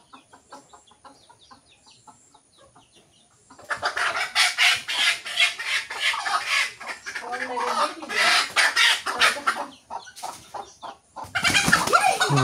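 A home-raised rooster gives soft scattered clucks at first, then bursts into louder agitated clucking and squawks with wing-flapping commotion close by, on a rainy day, with faint human voices at times.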